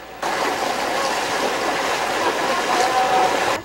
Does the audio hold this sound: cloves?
no